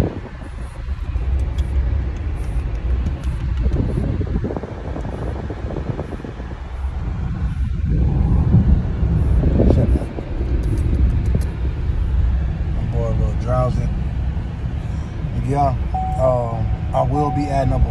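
Inside a moving car, a steady low road rumble and engine hum fill the cabin, with people talking over it.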